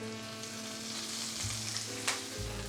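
Kale hits a pan of butter and olive oil with fresh garlic and fries with a steady, close sizzle, with a few stirring clinks and scrapes.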